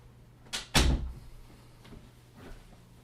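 A household door being opened to let a dog inside, with a muffled bump and then a louder thud as it swings, followed by faint shuffling and softer knocks.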